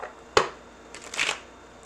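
Tarot cards shuffled in a bathroom, one sharp riffle snap followed by a softer, longer burst of card shuffling, close and fairly loud with no talking.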